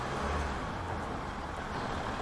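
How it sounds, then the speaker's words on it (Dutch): A car rolls past over cobblestones, a steady broadband road rumble with low-end thumping that holds at moderate level throughout, no voices present. "En dan een auto die passeert op kasseisteen."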